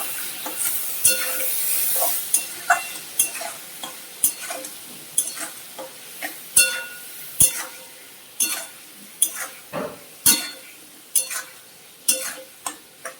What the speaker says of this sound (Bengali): এবার নাড়তে থাকবো।